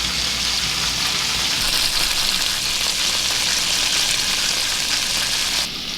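Duck meat from a marsh hunt fries in a very hot pan, giving a loud, dense, continuous sizzle that runs the whole time with no talking.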